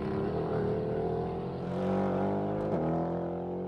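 A Mercedes-AMG E63 S and GT R accelerate side by side in a rolling race, engines droning steadily, rising in pitch with a gear change shift partway through, heard from inside over constant road and wind noise.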